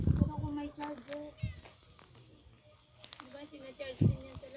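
A frightened cat meows a few times indoors at home, short tonal cries that come and go under people talking nearby.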